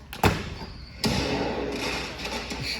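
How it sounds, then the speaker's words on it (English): During a stage play, a firecracker goes off as a sharp bang, followed about a second later by a second heavy bang whose rumbling decay lingers in the hall. "Who set off that firecracker?"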